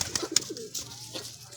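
Pigeons kept by a Sargodha fancier coo softly at close range, a few brief calls over a quiet low background, with a faint voice present.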